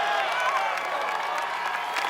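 A steady wash of crowd cheering and applause at an American Ninja Warrior qualifying course, loud and continuous throughout with scattered whoops rising above the roar.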